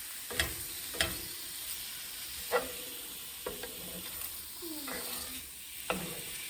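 Coq au vin ingredients with melted butter sauté quietly in a pan, a soft sizzle broken by several sharp scraping stirs of a utensil, faint and close with no talking.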